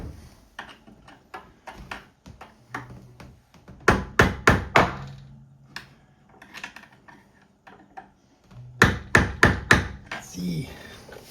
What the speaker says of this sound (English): Maybe I'll just try to hammer it a little bit just to see what happens.